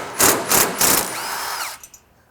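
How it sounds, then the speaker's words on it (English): Chrome socket fitted on an impact gun used on a farm header's cutterbar: three loud, close whirring bursts in quick succession, then a fading whine and a couple of small clicks. "Yes, I'm putting a chrome socket on an impact gun."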